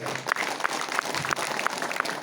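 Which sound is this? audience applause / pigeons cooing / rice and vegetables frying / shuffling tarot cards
audience applause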